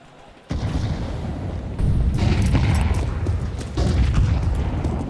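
Grenade blasts and gunfire in a professional Counter-Strike match roll out as deep, loud booms that come in sudden waves, with a sustained rumbling din between them.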